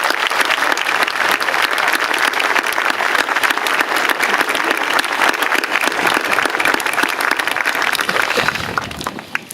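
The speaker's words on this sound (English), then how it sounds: "How about a nice round of applause for all the school department and public works employees who work so hard to make this such a special setting." Dense, sustained applause from a large crowd at a high school graduation ceremony, loud and even for several seconds before tapering off at the end.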